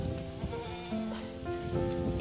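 Goat bleating nearby during a morning walk, a few wavering tonal bleats in quick succession over faint outdoor background noise, with no speech.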